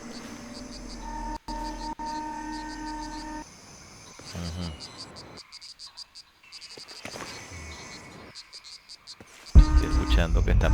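A frog croaks inside the video game Shadow of the Tomb Raider, with repeated calls over a chirping jungle backdrop of insects and crickets, followed by a sudden louder burst near the end.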